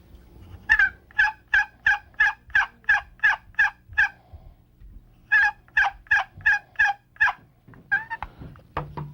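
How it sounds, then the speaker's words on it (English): Hen turkey yelps made on a wooden box call: two clear, evenly paced runs of about ten raspy notes each, close and loud, with a short break between them and a few looser notes at the end. "On a box call, it sounds something like this."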